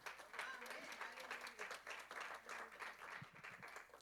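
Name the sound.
congregation clapping in church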